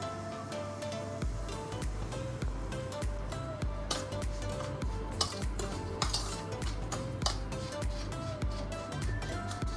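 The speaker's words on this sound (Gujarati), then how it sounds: "આ રીતે આપણે તેલને મિક્સ કરી લેશું લોટ જોડે" Hot oil is stirred into semolina flour in a bowl for sooji sakkarpara, giving a steady run of close spoon scrapes and clinks against the bowl, with no talking over it.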